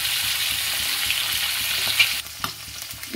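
Turmeric-coated eggs fry in hot oil with a strong, continuous sizzle, punctuated by soft taps and clinks of a utensil, the sizzle dropping in level toward the end while scattered knocks continue; no one speaks.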